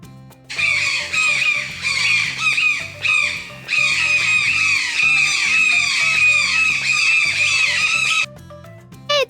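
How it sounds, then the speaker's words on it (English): A loud, rapid series of harsh, squealing toucan calls repeats steadily for several seconds, with a brief pause midway, then stops abruptly. "It's a toucan."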